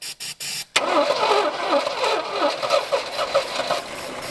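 An AMC Rebel abandoned for 35 years and primed with brake cleaner cranks in a few short, choppy bursts. It then catches and runs roughly for several seconds, loud and close.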